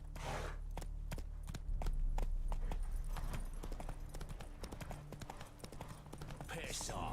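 Roach, a horse in The Witcher 3, clip-clops along with sharp, evenly spaced hoofbeats on a hard surface over a low background drone, with a brief voice near the start and end.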